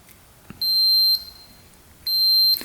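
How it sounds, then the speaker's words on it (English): A tester checking the fuses on a Suzuki Quadzilla quad gives two steady high-pitched electronic beeps, each about half a second long, loud and close, separated by a brief quiet gap. "Fuses first. We should hear a beep."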